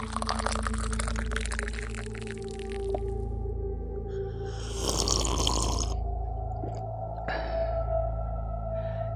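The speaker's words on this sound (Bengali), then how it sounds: "প্রকাণ্ড একটা থার্মোফ্লাক্স থেকে ধুমায়িত চা ঢেলে সকলকে দিতে লাগলো" Hot tea pours from a large thermos flask: a gurgling liquid stream and splashes, with a steady low hum beneath, close and moderately loud.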